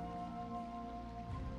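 Rain falls steadily in the Minecraft modpack Rebirth of the Night, a quiet even hiss that continues throughout. Faint sustained game music tones sit beneath it.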